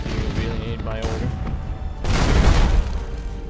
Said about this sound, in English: Broadside macro cannons ready to fire on your order, sir.